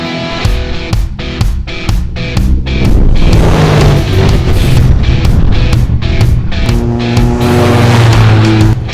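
Off-road race vehicles roar loudly at a Dirt Riot Mountain Series race at Buckskin Hills in Vernal, Utah, with engines revving hard and rising and falling close by over a continuous racing din.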